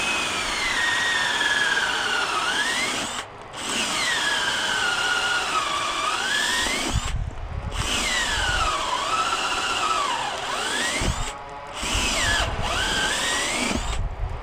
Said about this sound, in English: you gotta drill a couple holes.